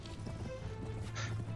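Horse hooves of a mounted archer in a medieval video game clatter in a steady, quick clip-clop under a constant low game hum, moderately loud with no speech.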